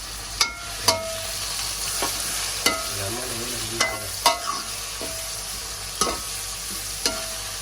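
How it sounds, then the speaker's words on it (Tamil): Onions and green chilies fry in a pan with a soft, steady sizzle, while a utensil scrapes and taps against the pan in roughly a dozen sharp strokes. "பச்சை மிளகா வெங்காயம் எல்லாம் போட்டு வெங்காயத்தை காயுது"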